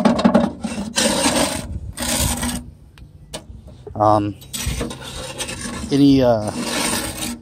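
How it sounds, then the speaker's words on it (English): An old metal spatula scraped and shaken up inside a smoker, giving rough rasping and rattling metal scrapes in bursts, with a few brief squeaky tones mixed in. "I just use this old spatula here, and I reach up in there, shake it"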